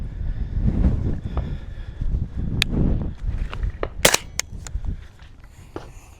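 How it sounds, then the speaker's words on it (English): A suppressed rifle fires outdoors on a hog hunting setup, giving a muffled crack with sharp transients mixed among shuffling, footstep-like handling noise and a few brief clicks across the short stretch. "shoot it one time and see what it sounds like without ears."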